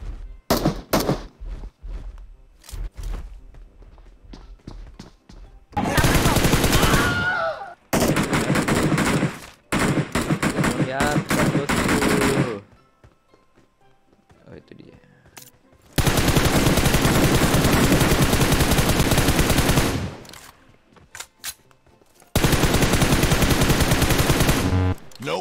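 Loud bursts of machine gun and rifle fire in a shooter video game, long sustained volleys broken by short pauses and scattered single shots, close and dominating throughout.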